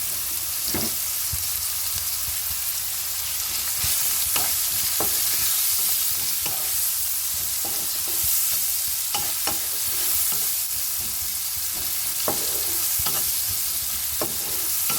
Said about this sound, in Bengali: এরপর এর মধ্যে ফোড়নে দিয়ে দেবো পেঁয়াজ, কুচিয়ে রাখা পেঁয়াজ।